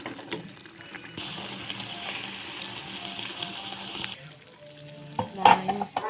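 Chicken cooked with cumin and fenugreek being stirred in a pan with coconut oil, a steady close hiss of frying for several seconds that eases off, then a few sharp utensil clinks and scrapes near the end.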